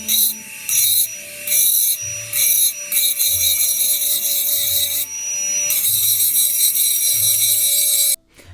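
A rotary drill fitted with an engraving burr grinds against a brandy glass in bursts, a high whining rasp starting and stopping roughly every second, then running steadily for several seconds before cutting off.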